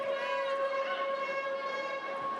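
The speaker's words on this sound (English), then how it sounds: "you just heard the siren for the start of the Power 5" A netball match siren sounds at the start of the Power 5 in a Suncorp Super Netball game between the Adelaide Thunderbirds and the Fever. It is one steady, loud, sustained wail with no talk over it.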